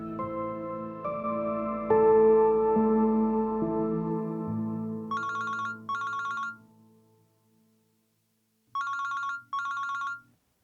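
A telephone rings in two short electronic bursts, pauses, then rings twice more, following a soft sustained musical tone that fades out beforehand.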